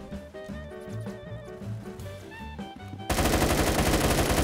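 Pistol fire rings out in the Roblox first-person shooter Phantom Forces as a fast string of sharp, evenly spaced shots over a game music bed. The shots turn much louder and denser in the final second.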